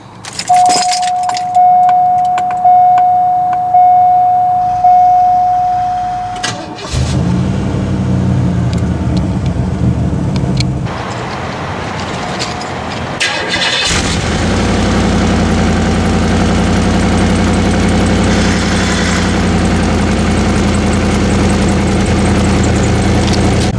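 A 1994 Cadillac Sedan DeVille is started in a cemetery: keys jingle and a warning chime sounds, then the engine cranks and catches into a steady, close idle that grows fuller and louder partway through.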